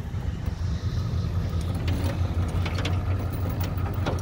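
A 1969 Chevrolet with a 350 engine being cranked over, a loud rhythmic mechanical churning and rattling with a low chugging undertone that never catches, continuous and close.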